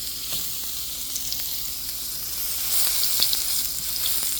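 A hamburger patty with Cajun seasoning sizzling on a hot pan, a steady bright frying hiss with small pops, close and continuous, growing slightly louder toward the end.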